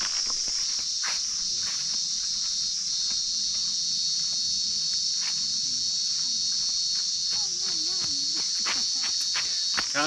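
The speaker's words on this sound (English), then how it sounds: "do you get cicadas that big where you are?" A steady, high-pitched drone of cicadas in New South Wales, Australia fills the whole stretch, loud and unbroken, with faint scattered rustles and thumps beneath it.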